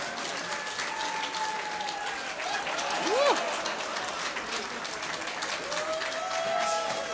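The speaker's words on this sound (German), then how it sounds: "Nochmal einen klebrigen Applaus" A crowd applauds steadily throughout, with dense clapping at an even level and a brief tonal swoop partway through.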